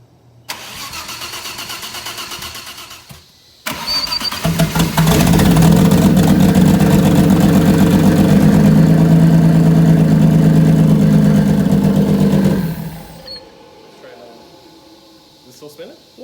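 A single-turbo 2.7-liter Audi B5 S4 engine cranks briefly, pauses, then fires up on its first start into a loud, steady rumbling idle lasting about nine seconds before shutting off, with people talking afterward.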